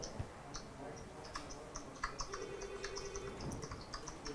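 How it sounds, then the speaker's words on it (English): Someone types on a keyboard nearby, giving a quiet, irregular patter of clicking keystrokes over faint room noise, with no talk. "She's typing."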